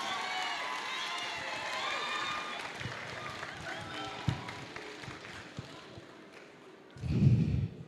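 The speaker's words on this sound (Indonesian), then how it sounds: "Bisa beri saya tepuk tangan dulu." An audience at a radio singing competition grand final in Makassar gives a short round of applause and cheering, faint and distant at first and then swelling into a louder burst of clapping near the end.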